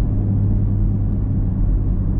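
A manual Chevrolet Camaro SS 1LE with X-pipe exhaust rumbles steadily and loudly nearby, a deep continuous engine and exhaust drone with no voices.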